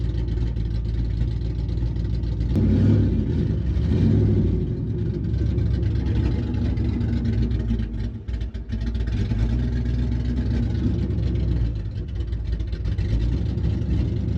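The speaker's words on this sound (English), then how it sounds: "And I did my burnout." A car, likely a Ford Mustang GT on drag-race wheels, roars through a sustained burnout, its engine rumbling loud and deep with swelling revs and a brief dip midway, continuous with no talk.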